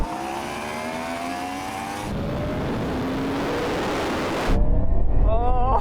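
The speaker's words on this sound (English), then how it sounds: "That Ferrari just came past me." A Ferrari SF90 accelerates hard in a 50 mph roll-on drag race, its engine note rising in pitch past the listener under heavy wind roar, then fading out as another engine rises.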